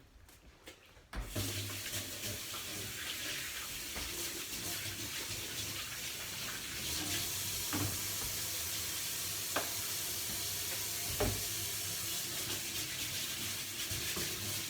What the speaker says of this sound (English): this is ready for me to wash the spatula, wash my hands